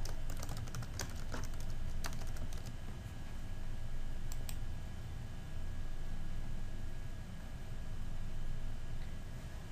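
A computer keyboard is typed on in quick, light clusters of keystrokes, mostly early in the stretch, over a steady low hiss with no voices.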